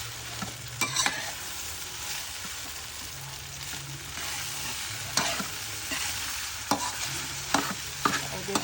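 Fried rice stirred and tossed in a frying pan, with a steady sizzle of frying underneath and scattered scraping clinks of the utensil against the pan, close up and moderately quiet, with no talking.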